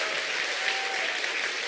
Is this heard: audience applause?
yes